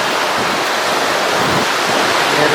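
Continuous broad wash of sea waves at Maragaha beach, steady and fairly close, with no talking over the surf.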